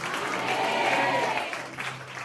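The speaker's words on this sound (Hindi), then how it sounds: "ताली बजा के तारीफ करो" A congregation claps at a church sermon, a short burst of scattered applause that swells and then thins out over about two seconds, fairly soft and with a few murmured voices mixed in.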